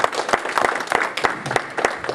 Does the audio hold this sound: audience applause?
yes